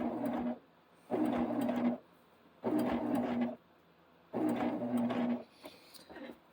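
A Jazz sewing machine with a 12-inch throat stitches an appliqué quilt block, running in four short, even bursts about a second each, separated by brief pauses, close up and alone.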